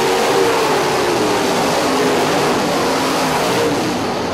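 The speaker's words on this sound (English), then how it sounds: "Cars now trying to single file out." Modified race cars roar around a short dirt track, their engines droning loudly and steadily together as the pack runs in single file, with no talk over them.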